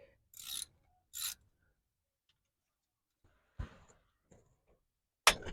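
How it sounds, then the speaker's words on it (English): A few scattered mechanical clicks and scrapes are followed later by a sharp, loud snap near the end as a Toyota RAV4 Prime transmission fill plug breaks loose, close and dry. "You hear that snap? That means you got it open"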